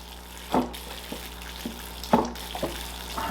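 Water is poured over a freshly repotted Premna bonsai, with a few soft splashes and trickles spaced out over a steady background hiss.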